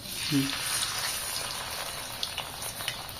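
Spiced potato pieces frying in medium-hot oil give off a steady, moderately loud sizzling hiss, with a few sharper crackles toward the end.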